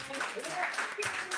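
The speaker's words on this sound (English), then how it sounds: "Can we clap hands for all the men?" Scattered hand clapping from an audience at a women's conference, fairly faint and mixed with murmuring voices and a bit of talk.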